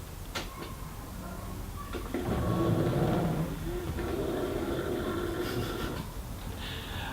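Slow windscreen wipers on an Alfa Romeo Spider sweep with a newly reinstalled motor, making a soft mechanical whirr and scrape with faint ticks at the ends of each pass. The sound is quiet and close.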